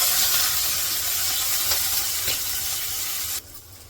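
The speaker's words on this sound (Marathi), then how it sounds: "मोरी टाकली जिरा आणि कांदा पत्ता कांदा पण तिथे आपण देतो" Mustard seeds, cumin and onion sizzling in hot oil for kanda poha, a steady broadband hiss with faint crackles that cuts off abruptly near the end.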